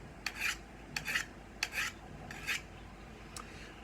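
A sharpening stone or file rasps along a tool blade in five short strokes at a steady rhythm, close and fairly quiet against a soft background hiss.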